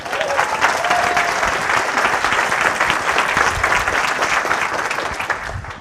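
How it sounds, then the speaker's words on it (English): Audience at a Codeland 2018 coding conference talk claps steadily, a dense, sustained burst of applause from a full room that gradually tapers near the end. "Give her a round of applause."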